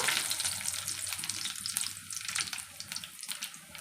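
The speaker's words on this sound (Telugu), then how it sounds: "కడాయి పెట్టేసాను ఆయిల్ వేసేసాను కొంచెం ఆవాలు వేసేసాను కొంచెం ధనియాలు కొంచెం జీలకర్ర కరివేపాకు" Mustard seeds, coriander seeds, cumin and curry leaves sizzle and crackle steadily in hot oil in a kadai, a close, continuous fry with scattered pops and no talk.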